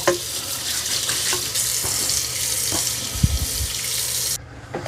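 Tap water runs into a sink while the brush roller and parts of a Dyson Vis Nav robot vacuum are washed, a steady rushing stream with a few knocks and clatters, stopping near the end.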